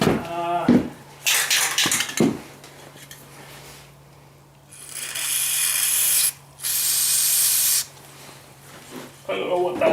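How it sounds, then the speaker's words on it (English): Several bursts of aerosol spray hiss out onto a badly seized rear axle of a Honda CRF110F, some short and a few long, separated by pauses, with brief voice and handling sounds around them. "Probably should give it a spray of something too."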